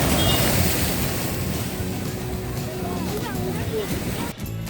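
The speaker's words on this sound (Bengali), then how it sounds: "সমুদ্র দেখুন কেমন আছড়ে পড়ছে এই স্ট্রিপটার ওপরে" Sea waves crash onto a concrete strip at the Digha estuary, a broad continuous roar of surf with wind buffeting the microphone, close and loud, and a voice speaking over it.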